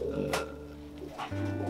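Jacobin pigeon cooing softly at close range, a few low, rounded coos over faint background noise, with a brief sharper sound in the middle.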